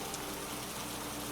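Steady rain falls at night, a dense, even hiss of drops that holds constant and fills the whole short stretch without a break.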